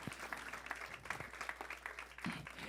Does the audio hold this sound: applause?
yes